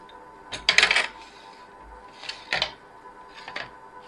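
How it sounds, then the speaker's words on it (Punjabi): A cucumber being cut, heard as three separate bursts of crisp clicking, snapping strokes against a quiet background, the first burst loudest, with no talking. "ਆ ਦੇਖੋ ਜੀ ਆਪਾਂ ਖੀਰਾ ਕੱਟ ਲੈਨੇ"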